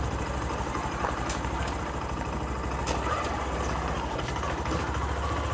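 A motorcycle engine hums steadily while being ridden along a street, a continuous low rumble with faint traffic noise and no clear pauses.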